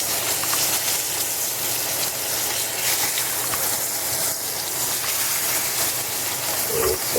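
Corn-crusted sardines frying in jalapeno oil, a steady loud sizzle and hiss that continues unbroken while the fish is flipped in the pan.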